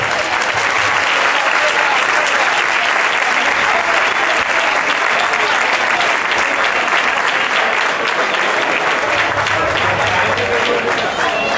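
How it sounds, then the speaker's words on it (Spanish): Loud, dense audience applause fills a trophy presentation ceremony for a final in Chipiona, a steady wash of many hands clapping without pause for the whole stretch. "un fuerte aplauso que se los pido yo de mi parte"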